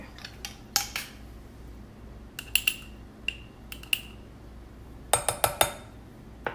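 A spoon clinks and scrapes in a bowl while cumin and coriander are stirred into a falafel mix, giving a few sharp, scattered taps with quiet gaps between them.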